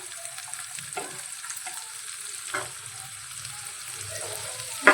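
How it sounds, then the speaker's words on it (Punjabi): Finely chopped onions with green chillies frying in a pan for a bathua vegetable dish, a steady low sizzle with occasional stirring scrapes and a sharp clink at the end, no voices. "ਪਿਆਜ਼ਾਂ ਨੂੰ ਵੀ ਹੁਣ ਆਪਾਂ ਭੁੰਨ ਲਾਂਗੇ ਜੀ"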